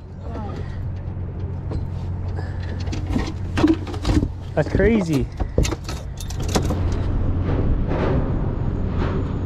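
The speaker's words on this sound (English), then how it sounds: "You hear all the trucks up there right now." Trucks rumble across a large bridge overhead, heard from a boat drifting on a river below. The low, steady traffic drone is joined by clanks and rattles, and a person speaks briefly partway through.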